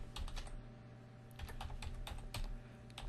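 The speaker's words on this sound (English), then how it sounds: "okay, I'm just going to type in" A password is typed on a computer keyboard, a quick irregular run of soft close key clicks over a faint background hum, with no talking.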